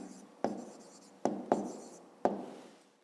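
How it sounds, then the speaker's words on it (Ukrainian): Pen strokes on paper as an answer is written out by hand for a fifth-grade maths exercise, four sharp taps each trailing into a short scratchy scrawl, close and fairly quiet with no talking. "Пишемо відповідь"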